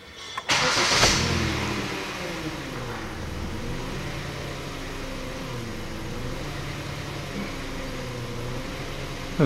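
A 2012 Hyundai Solaris with a misfiring engine cranks and starts, then settles into a steady idle close to the microphone, its revs wavering slightly.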